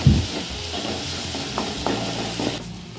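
Chopped tomato stir-fried into a masala for paneer lababdar sizzles steadily in a pan, with a few soft scrapes of stirring over a continuous hiss; no talking.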